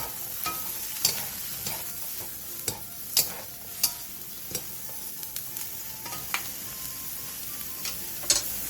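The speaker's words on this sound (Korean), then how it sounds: "그 다음 느타리 버섯을 넣고 버섯의 숨이 반 정도 죽을 때까지 볶아주세요." Oyster mushrooms stir-fry in a hot pan over high heat: a steady soft sizzle runs throughout, broken by irregular sharp clicks and scrapes of a utensil stirring against the pan, with no talk.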